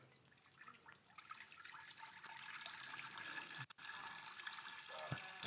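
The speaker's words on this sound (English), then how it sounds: "I'm pouring water in here." Water is poured into a container during a healthy-cooking demonstration, a steady splashing trickle that slowly grows in body over several seconds, close and continuous with a brief break near the end and no talking.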